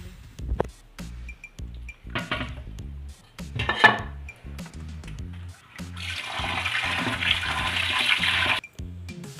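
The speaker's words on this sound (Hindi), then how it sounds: "इसे खुले पानी में तकरीबन 2 से 3 दफ़ा अच्छी तरह धो लेंगे" Goat liver being washed in water in a bowl, with clinks of the bowl, sloshing and splashing, then a steady stream of running water near the end.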